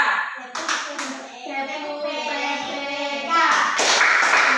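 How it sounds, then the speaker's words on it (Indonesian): Children in an Indonesian classroom perform the PPK clapping chant, rhythmic hand claps mixed with their chanting voices, close and lively, with a burst of sharper clapping near the end. "Kita mulai dari tepuk PPK."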